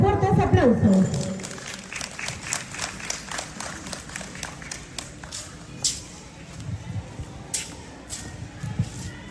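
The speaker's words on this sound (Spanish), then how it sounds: "por parte del estudiante Nelson Mechato, para que pedimos fuertes aplausos" Audience applause at a school book presentation for a writer, with steady clapping and a brief burst of voices at the start that settles into scattered claps over a room murmur.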